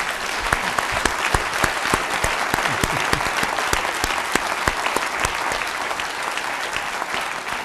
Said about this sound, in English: please a big round of applause and a wave to everyone who's watching us online